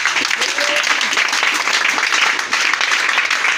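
A church congregation applauding, a dense steady wash of clapping from many hands that stays loud and even throughout, with speech mixed faintly underneath.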